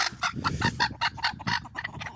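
Hens cluck steadily in a poultry pen beside an aviary, a busy overlapping run of short clucks and calls from several birds, close and fairly loud.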